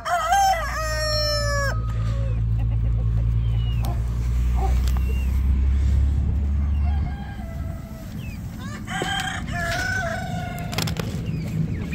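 A flock of free-ranging chickens clucks and squawks nearby, and a rooster crows loudly at the start. A steady low rumble runs underneath for most of the clip, then drops away as more clucking and crowing continue.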